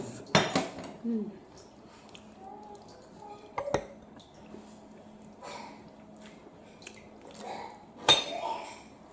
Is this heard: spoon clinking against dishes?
yes